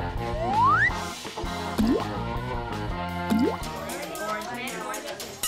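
Cartoon magic eye drops dripping, bright rising and bending synthetic drip tones repeated three times over a bed of background music, loud and close.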